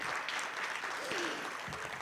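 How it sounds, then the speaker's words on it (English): Audience applause at an Islamic economics and finance conference, a steady wash of clapping from many hands filling the whole brief moment, moderately distant and continuous. "So I would request a huge round of applause for my colleagues"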